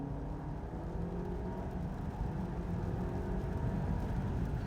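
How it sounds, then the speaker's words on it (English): Honda Civic under full throttle on a straight road, a steady broadband engine and road roar that holds constant and swells slightly as the car pulls, heard from inside the cabin with no talking. "let me floor the throttle"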